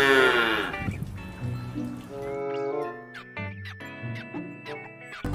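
Cow in the Jurassic World Evolution 2 video game lowing in a drawn-out, harmonic moo over game music and ambient effects, fairly close and clear.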